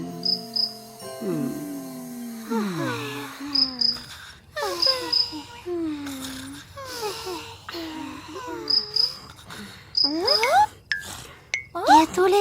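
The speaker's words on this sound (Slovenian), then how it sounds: "Je tole čirikanje?" Cartoon cricket chirping in a Slovenian animated cartoon: short, high, repeated chirps scattered among animated voices and playful sound effects.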